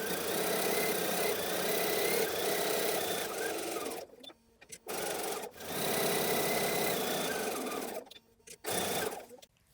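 A sewing machine runs in fast steady bursts while back stitching a tote bag seam, its close mechanical whir stopping briefly several times between stretches of stitching.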